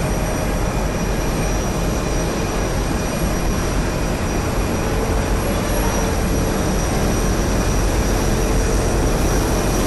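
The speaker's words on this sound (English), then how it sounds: "So the pack outlets, the noise comes from the air condition." Steady loud broadband roar from the air conditioning pack outlets of a Lufthansa Airbus A350, a constant rushing airflow hiss with faint tonal whines, continuous and close throughout with no voices.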